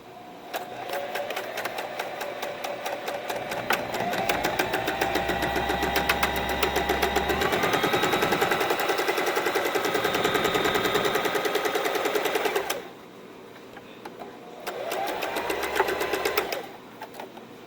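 Sewing machine stitching a fabric strip for a scrunchie, a rapid even mechanical chatter running steadily for about twelve seconds, stopping, then a short second burst, close and loud.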